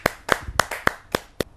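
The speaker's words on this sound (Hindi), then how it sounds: "और जोरदार तालियों के साथ हम टिल्लन वर्मा जी की हम कविता का श्रवण करने जा रहे हैं।" Clapping at a Hindi kavi sammelan poetry gathering: six sharp, evenly spaced claps in a steady rhythm, close and distinct, with no talking over them.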